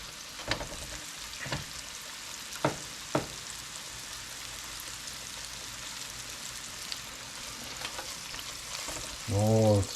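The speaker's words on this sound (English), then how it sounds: "Sizzling." Walleye sizzles in a hot pan with a steady crackle, a few sharp clicks and taps of a utensil, and a brief low thud at the end.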